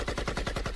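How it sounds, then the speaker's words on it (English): Rapid burst of automatic gunfire as a sound effect, about eight sharp close shots in an even, fast rhythm with no voices. "Gunshots."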